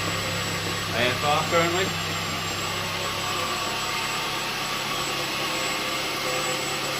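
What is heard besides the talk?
Ford Zetec 1800 engine with bike carbs idling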